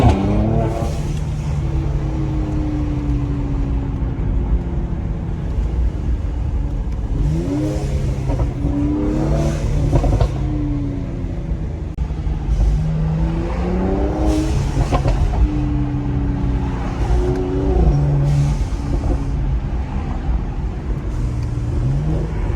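A 2020 Mercedes-AMG C43 engine revs through repeated acceleration pulls, with rising and falling tones as gears change, heard loud from inside the car while driving.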